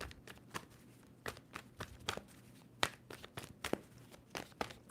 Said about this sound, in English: 2 more shuffles for Leo